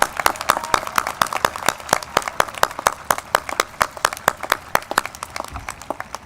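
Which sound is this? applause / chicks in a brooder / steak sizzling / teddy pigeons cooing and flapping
applause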